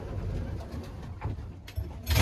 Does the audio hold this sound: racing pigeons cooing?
yes